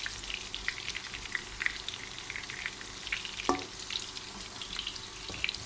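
Beef frankfurters, each scored with a line along its length, fry in a pan with a steady soft sizzle flecked with tiny crackles and spits, plus a brief metallic knock partway through.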